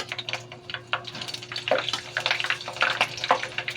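Breaded chicken balls go into hot cooking oil and fry with a steady, close crackle and bubbling sizzle, with sharper spatters and pops scattered throughout.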